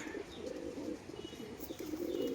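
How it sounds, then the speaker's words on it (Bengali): Giribaz pigeons coo in low, rolling calls close by, several birds overlapping with faint chirps and a soft flutter, continuous and unaccompanied by speech. "এই যে ছটফটে চনমনে পায়রা, প্রত্যেকটা পায়রা অ্যাক্টিভ পায়রা"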